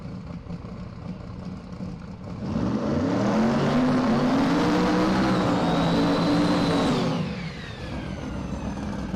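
The Pro Fab Mustang radial drag car's engine swells from a background hum into a loud, sustained roar for several seconds, its pitch rising, before dropping back to a steady distant drone.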